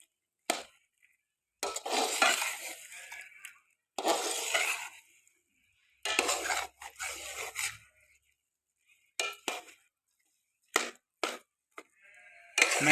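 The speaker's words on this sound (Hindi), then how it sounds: "चम्मच को बराबर हिलाते रहना है ताकि कढ़ाई में लग ना जाए।" A spoon stirs and scrapes chicken with moringa drumsticks in a karahi, making rough scraping bursts in irregular stretches, separated by short pauses.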